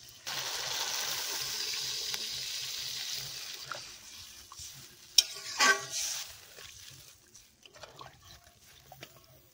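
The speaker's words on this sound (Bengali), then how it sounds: "এবার সেদ্ধ করার জন্য জল দিয়ে দিচ্ছি।" Water poured over browned mutton pieces in a hot pan for a red curry with banana stem: a loud hissing sizzle at the start fades to a low simmer, with a few sharp clanks and splashes midway.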